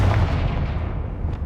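A booming blast from the Confringo spell in Hogwarts Legacy, a heavy low-frequency explosion that rumbles and slowly fades over a second and a half.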